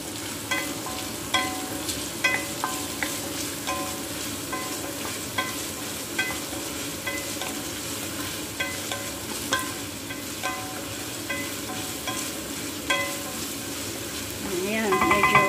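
Onions sautéing in a pan for a curry puff filling, a steady soft sizzle broken by regular scraping strokes of a spatula, close and fairly quiet, with a brief voice heard.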